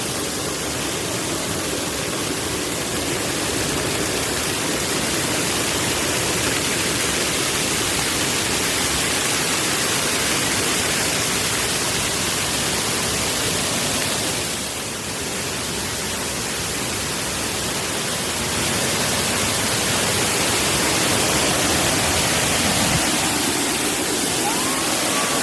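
A waterfall at the overflow of Cherlabuthkur lake roars with a loud, continuous broadband rush of falling water, steady and close throughout with no voices.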